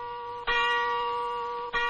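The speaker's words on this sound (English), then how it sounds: "Across the city came the sound of the bronze bell, heard every day during the 38th International Eucharistic Congress." A bronze church bell rings across a city in India during the 1964 38th International Eucharistic Congress: a sustained, ringing tone struck twice, each strike blooming into a long, bright hum with layered overtones.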